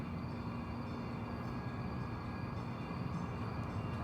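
Train station ambience in Denver: a constant low rumble of idling rail equipment with steady humming tones and a dull, unchanging wash of distant noise, with no voices.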